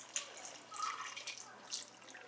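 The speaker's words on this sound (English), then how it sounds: "You're gonna add water, but don't add too much because you don't want it to take long to cook" Water trickles and splashes softly into a pot of Guyanese catfish egg curry, a faint, uneven pouring sound with a few small drips, heard close in a quiet kitchen.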